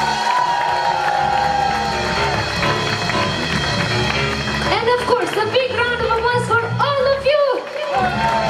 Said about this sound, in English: a big, big, big round of applause for Alina